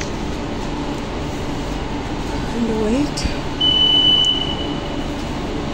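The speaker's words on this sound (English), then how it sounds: "I am in the metro now." A metro train runs through a station as a steady rumble and hum, with a brief high tone near the end. A voice speaks briefly over the background noise.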